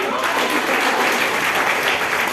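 An audience at a women's professional networking event claps steadily, a dense, even wash of applause that fills the whole moment without pause.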